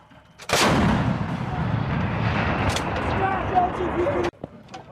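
An M777 towed 155mm howitzer fires a live round during a Marine live-fire exercise: one huge, close blast whose roar and rumble carry for about four seconds before cutting off, with crew shouting around it.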